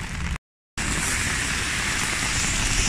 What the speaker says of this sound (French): Il pleut, on est trempé.